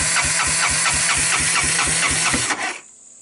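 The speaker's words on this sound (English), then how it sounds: "So I adjusted the valves, and this is what we're getting now." A Honda TRX200SX ATV engine idles after a valve adjustment, a steady rapid thumping putter that runs loud and close for about two and a half seconds before cutting off to near silence.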